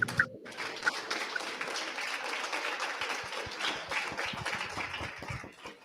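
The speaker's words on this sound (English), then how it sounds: "Let's get a round of applause for Ted." A small audience at a community-building event claps for several seconds, scattered individual hand claps merging into a light, uneven patter that tapers off at the end.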